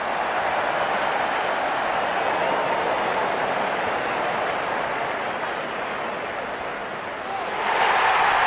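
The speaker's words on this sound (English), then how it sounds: "Wonderful 50 and the crowd applauds." Virtual stadium crowd in the Real Cricket video game, India versus New Zealand, applauding a batsman's fifty, a steady hissing roar of clapping that swells louder near the end.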